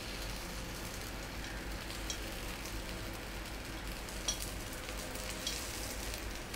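Sweet paniyaram frying in a pan after being flipped, a soft, continuous sizzle with faint crackles and a few small ticks, quiet and close, no talking.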